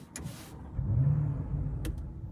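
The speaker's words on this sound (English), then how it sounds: "We will be starting up the SQ8." A 2024 Audi SQ8 facelift, a 507 hp luxury V8 SUV, starts up after a couple of sharp clicks, its engine swelling into a low, close rumble that settles into a steady idle.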